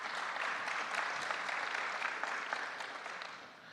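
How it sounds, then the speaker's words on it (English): Audience applause at an IMF research conference in the Middle East and North Africa region: a dense, moderately distant round of clapping with a few distinct claps, steady before fading slightly at the end, with no speech. "Please give him a round of applause."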